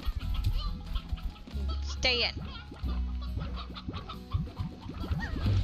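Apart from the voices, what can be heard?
rooster clucking in a video game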